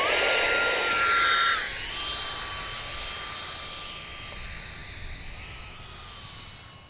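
An E-Flite F-14 Tomcat model jet with twin 40mm electric ducted fans whines loudly at launch, a high steady tone that dips then climbs again as the fans shift pitch, fading slightly as the plane moves away.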